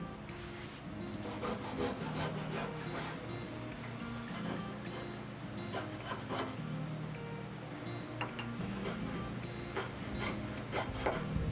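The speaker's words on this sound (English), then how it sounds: "Next I use my Japanese handsaws as well as my coping saw to remove the material between the tenons." Japanese handsaws and a coping saw cut through wood between tenons for a conference table's breadboard ends, a steady close rasping stroke rhythm that runs continuously without talk.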